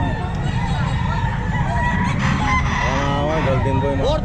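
At a crowded pet market, roosters crow loudly, with a long drawn-out cock-a-doodle-doo rising over clucking fowl and constant crowd noise, while people talk nearby.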